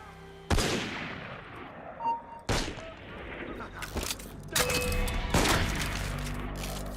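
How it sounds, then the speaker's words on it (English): Enemy gunfire in the video game Assassin's Creed Unity: several sharp, loud shots ring out one after another, then a dense volley of overlapping cracks and booms with ringing tails filling the last few seconds. "They're shooting me."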